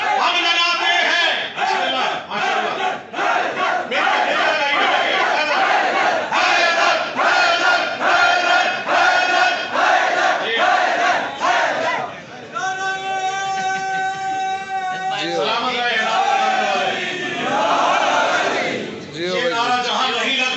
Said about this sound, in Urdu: آپ سب نعرے لگا رہے ہیں، کیوں لگا رہے ہیں؟